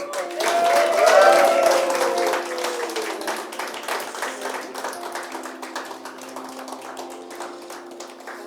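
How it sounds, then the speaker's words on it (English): Church congregation at a book launch service clapping as a book is unveiled, applause swelling quickly and then thinning into scattered claps while a sustained tone rings beneath and a few voices murmur. "I think you can clap now."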